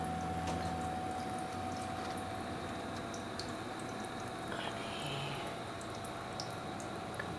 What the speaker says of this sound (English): That's all the water that shoots out.